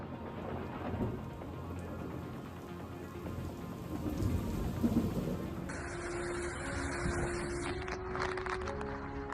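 A lightning storm over North Houston brings steady rain and deep rolling thunder that swells in the middle, with no voices over it.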